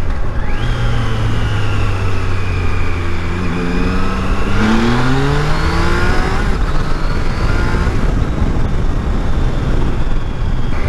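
A Triumph Tiger Sport 660 motorcycle engine hums steadily while riding, loud and close under heavy wind rush, its pitch rising and falling through gear changes and throttle.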